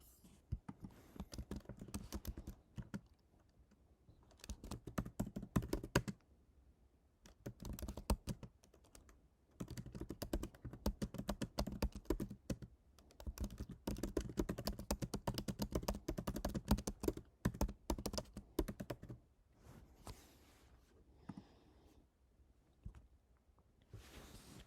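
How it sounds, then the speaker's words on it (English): Someone types a prompt on a computer keyboard, producing long bursts of quick, close key clicks and taps with a few short pauses between runs, and no one speaks. "Let's type that into our prompt at the bottom"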